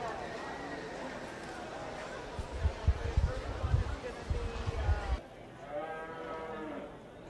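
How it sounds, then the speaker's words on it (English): A purebred Hereford heifer at a 4-H/FFA beef show lets out low moos under an announcer's amplified voice, with arena thumps and crowd noise around it. "Exhibiting our purebred Hereford heifer was Caroline Wagner."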